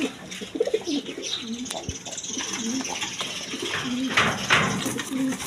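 Pigeons at a pigeon seller's coo in soft, repeated throaty phrases close by, with a few brief chirps between them.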